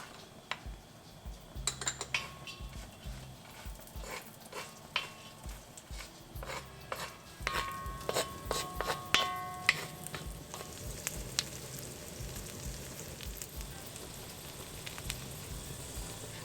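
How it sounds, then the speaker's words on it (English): Raisins go into a pan of golden-brown frying nuts while chawal kheer is prepared: steady light sizzling with repeated clicks and scrapes of a utensil stirring against the pan, close and moderately loud, with no talking. "Now we'll add the raisins."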